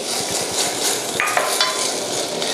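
Kimchi stir-fries in a hot pan as sesame oil goes in, a close sizzle mixed with utensil scraping and stirring clatter.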